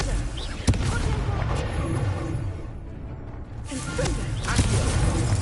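Confringo fire-blast spell in Hogwarts Legacy: a sharp crack followed by dense, crackling bursts, with another blast near the end, over ongoing battle noise.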